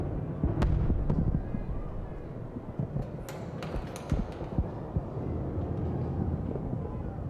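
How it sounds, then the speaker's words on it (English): Scattered explosive cracks and pops like fireworks ring out as a facility breaks apart in Amnesia: A Machine for Pigs, irregular bursts over a constant rumbling, creaking background, moderately distant. "Sounds like fireworks. Oh wait, I guess the facility is breaking apart,"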